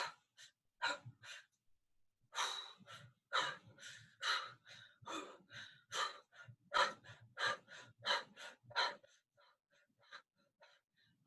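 Repeated deep breaths during a guided breathing exercise, a series of loud, close inhalations and exhalations in an irregular rhythm, with no talking.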